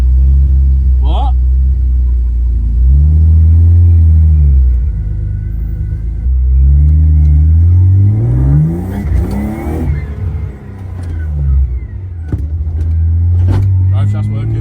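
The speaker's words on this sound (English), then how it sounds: "This car's loud. Feels like I'm in a shed with an engine." A loud drift-spec BMW E36 is heard from inside the cabin as its engine rumbles and revs up and down while driving on the road, with people talking over it.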